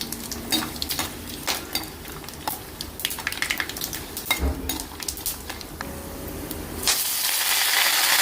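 Whole spices such as shahi jeera, star anise, cinnamon, cloves and cardamom fry in hot oil with light crackles and sizzles, a spoon scraping and clinking against the pan, then a louder, steady hiss of frying takes over near the end.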